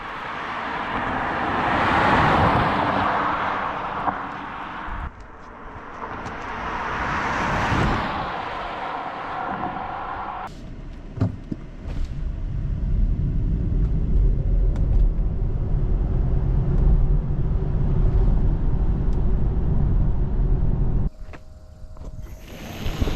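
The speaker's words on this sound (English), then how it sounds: "I did a 0 to 100 km an hour test, which you will see now" A BMW i4 eDrive40 electric car accelerates from 0 to 100 km/h, heard from inside as a rising electric motor whine over road and wind rumble that grows to a loud, steady roar before easing off near the end.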